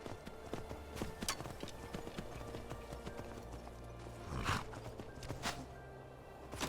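Steady hoof clip-clops from a horse at a walking pace in the video game Skyrim, with sharp rhythmic knocks over a busy, layered game background.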